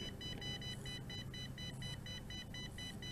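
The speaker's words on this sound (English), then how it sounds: "Continuing to beep." Repeated electronic beeps from an HS720G drone controller that has lost control input, in a steady pulsing pattern over a constant low rumble, moderately loud and continuous.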